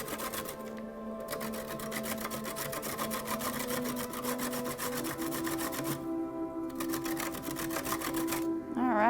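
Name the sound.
grating carrots for carrot cake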